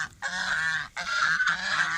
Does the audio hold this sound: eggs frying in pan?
no